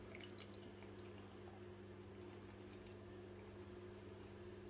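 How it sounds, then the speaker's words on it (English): Evil Twin Brewing's 90-day dry-aged stout pours into a glass, a faint trickle and fizz of carbonation over a low steady hum, with no talking. "That is pouring pretty much jet black. I can hear a lot of carbonation going on in there"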